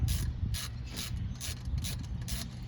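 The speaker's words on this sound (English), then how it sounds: "you're going to take your ratchet, and you're just going to snug these down" A hand ratchet snugs down the water pump bolts on a 1999 Chevy Silverado 1500 with a 4.8 engine. About six evenly spaced bursts of close, crisp clicking sound over a low background hum.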